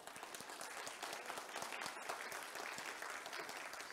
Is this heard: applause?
yes